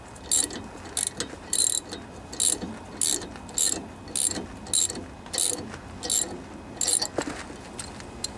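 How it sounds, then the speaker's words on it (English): A ratchet backs a bolt out of a vintage Briggs and Stratton engine on a junkyard Toro riding lawnmower, with about a dozen close, crisp, evenly spaced clicking strokes in a steady rhythm. "Back out this bolt a little bit now."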